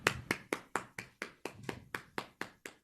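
Audience applause for Caddy Felice 99 comes across as about a dozen evenly spaced, sharp hand claps, close and distinct, with no talking over them.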